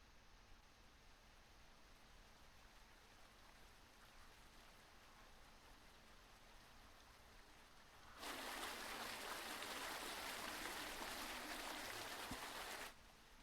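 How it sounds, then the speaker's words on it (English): A looping river-water ambience sound effect: a loud, steady rushing hiss of flowing water that starts abruptly over a faint background, runs for several seconds and then cuts off. "It's probably just gonna sound like water."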